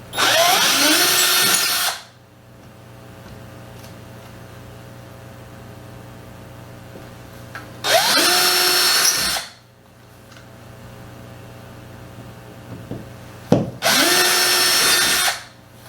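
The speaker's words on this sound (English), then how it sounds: "I'm going to drill a hole into each of these positions" A power drill bores holes into a wall for mounting a race medal hanger, three loud whining bursts of roughly one to two seconds each, separated by long quiet pauses, close and without talk.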